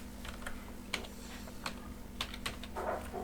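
Keys tapped on a computer keyboard in short irregular bursts, close and crisp over a faint steady electrical hum, with no talking.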